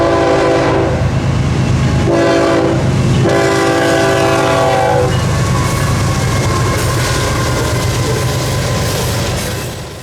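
A Waycross-bound manifest freight train led by a pair of BNSF locomotives on a CSX Florida mainline sounds its horn in several loud blasts, then rumbles past with clattering wheels that slowly fade.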